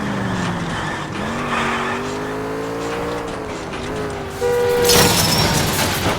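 A car in the L.A. Noire video game is driven hard, its engine droning steadily with rising and falling pitch before a louder skid-like squeal near the end, all without any talk.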